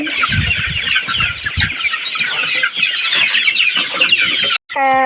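Several hens cluck and squabble close by in a busy, continuous chatter, ending with a brief higher call.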